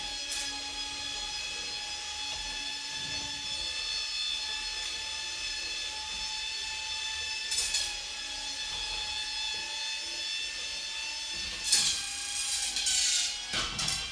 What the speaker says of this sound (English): the saws are doing pretty good. They're definitely getting around the sides and taking some chunks off.